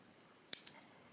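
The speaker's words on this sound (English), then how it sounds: "from here you're going to cut off the bottom cord" Scissors snip through macrame cord on a keychain, one short close crisp cut in an otherwise quiet room.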